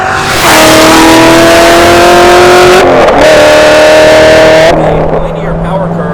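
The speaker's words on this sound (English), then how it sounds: "It just never stops pulling. That's the great thing about this centrifugal supercharger." A supercharged Hennessey HPE1000 Z06 Corvette accelerates at full throttle with a loud, rising engine howl and supercharger whine that drops at each upshift before climbing again, then eases off near the end.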